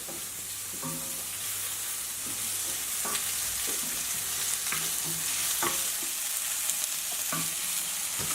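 Vegetables for a fermented birch sap and prawn dish frying in a pan, with a steady close sizzle and occasional clicks and knocks of stirring, no voices.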